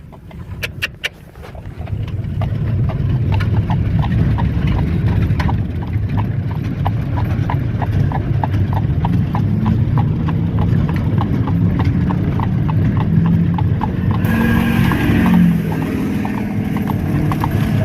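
Horse hooves clip-clop in a steady, even rhythm on a hard surface, close by, with a vehicle engine rumbling underneath.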